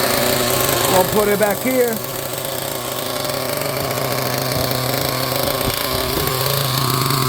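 Nitro engine of a Team Associated MGT RC truck idling, a steady buzzing drone close by, with a person talking briefly over it near the start.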